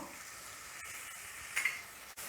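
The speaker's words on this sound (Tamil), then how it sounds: "இஞ்சி பூண்டு பேஸ்ட்டு வந்து எண்ணெயில் நல்லா வறுப்பட்டு அதில் பச்சை வாசனை போகணும்" Ginger garlic paste fries in hot oil in a pan with urad dal, cumin, dried red chillies and curry leaves, giving a steady, fairly quiet sizzle that runs throughout, with a couple of brief stirring scrapes near the end.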